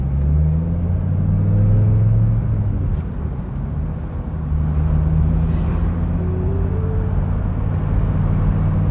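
A Dodge Viper on old tires drives steadily under power, its deep engine rumble holding loud and close with a brief dip midway, no talk over it.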